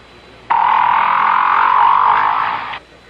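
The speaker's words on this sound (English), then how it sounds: "a great big blubbery old whale just buzzing and clicking and grunting away" A single sustained buzzing whale call, loud and close, lasts a little over two seconds with a rough, rasping texture. It starts and stops abruptly and plays alone, with no voices.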